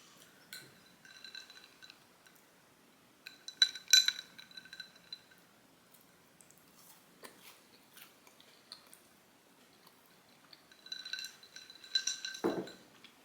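A torn-off piece of home-baked cookie is dunked into a glass of milk and eaten, with soft glassy clinks in two short bursts and quiet chewing and crunching between them, close and fairly faint.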